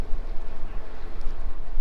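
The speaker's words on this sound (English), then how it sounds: "It's really windy." Gusty wind buffets a GoPro's external microphone, producing a constant low rumble and roar that surges and dips throughout.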